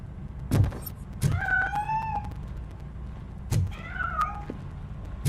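In Robocop: Rogue City, a cat escapes from inside a piano, giving sharp thumps followed by two drawn-out rising meows, then another thump and more meows, close and clear against a low ambient hum.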